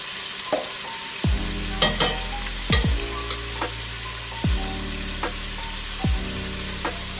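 Beef stew meat browning in a frying pan, a steady sizzle punctuated by repeated clinks and scrapes of a utensil stirring against the pan, close and fairly quiet.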